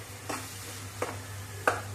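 Whole spices and cashews get stirred in a pan for dum aloo, with three distinct scraping strokes of a spoon over a low steady hum, no voices.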